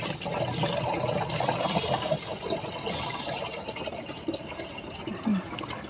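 Water poured to fill a marked container while watering hibiscus plants, a continuous splashing, gurgling stream nearby with small drips and shifts, no talk over it.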